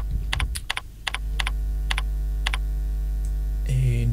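Keys tapped on a computer keyboard, a handful of sharp, separate clicks spaced unevenly over a low steady hum, followed by a brief burst of faster typing.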